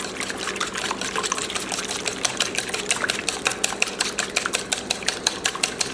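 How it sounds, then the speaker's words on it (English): A whisk beats pecan pie filling in a bowl, a fast steady run of light wet clicks and sloshes, close and fairly quiet, with no talking. "Now we're going to whisk this briefly"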